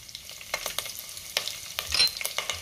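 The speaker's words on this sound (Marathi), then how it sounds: "तेल तूप गरम झालंय, त्यामध्ये जिरे घालूया।" Cumin seeds, whole spices and green chilli crackle in hot oil and ghee, giving quiet irregular pops and short spattering bursts with a few utensil scrapes, close and without speech.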